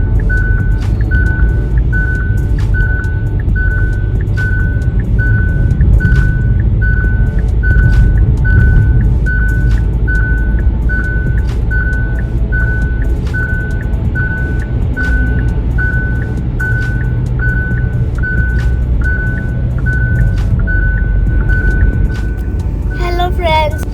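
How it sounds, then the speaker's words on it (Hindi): A car's take-a-break driver alert chime repeats in steady, evenly spaced beeps over low road rumble, sounding during a foggy overnight drive on an expressway. "बार बार गाड़ी कह रही है ब्रेक ले लो।"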